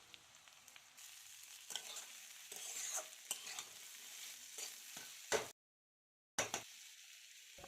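Chopped potatoes drop into a pan of frying beans, setting off a bright, crackling sizzle with stirring clatter, then a sudden gap of silence before the frying resumes more quietly; no one speaks.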